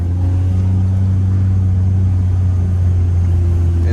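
A tuned VW GTI engine revs hard in first gear, a loud, close, sustained low rumble with a steady drone and no talking.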